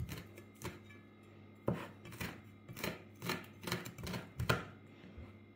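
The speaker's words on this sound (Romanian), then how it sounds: "Și tăiem foarte, foarte mărunt." Vegetables are chopped finely with a knife on a board, giving a series of crisp, irregular close knocks and cuts spaced about half a second to a second apart, with no talking.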